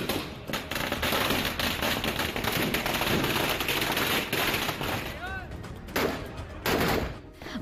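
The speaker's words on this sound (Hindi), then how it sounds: "एक साथ 100 से अधिक बंदूकें गरज रही" Massed gunfire from over a hundred guns at a Holi celebration in Menar village, Udaipur, Rajasthan: a dense, continuous crackle of overlapping shots and reports with brief louder bursts, mixed with crowd noise throughout.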